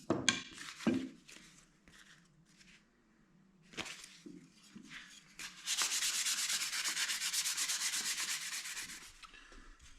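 Hand sanding of spatulas made from scrap wood: a few scattered scrapes and knocks first, then a long, steady rapid rasping rub, moderately close and alone with no talk.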